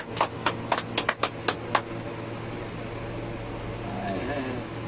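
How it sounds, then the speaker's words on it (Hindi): A few sparse hand claps from a small gathering at a pigeon-flying tournament prize ceremony, about eight sharp separate claps over a steady fan-like hum, then fading into the background hum. "तालियां"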